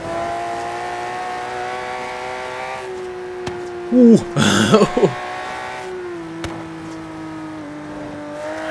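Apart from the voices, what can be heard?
Aston Martin One-77 engine revving, from video game Forza Horizon 3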